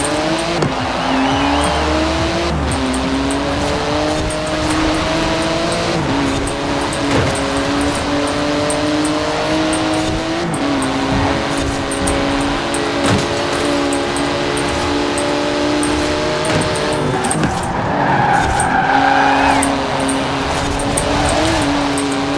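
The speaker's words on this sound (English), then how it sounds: "Throwing my SUV's weight around quite literally in order to fight my way to the front of the pack here." SUV racing in Forza Horizon 4 among a pack of cars, engine revving continuously with gear-shift steps in pitch, tire noise and other cars close by, loud and steady throughout.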